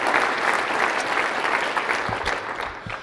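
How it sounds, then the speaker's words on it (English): An audience claps steadily and fairly loudly for Lynn Hightower, the new executive director, at the State of Downtown Boise event, with the applause thinning slightly toward the end. "So give Lynn a round of applause as well"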